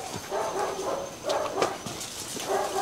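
A fluffy white Bac Ha village puppy whimpers and gives small yips while climbing on a brick pile, with thin, whiny cries repeating close by over about three seconds.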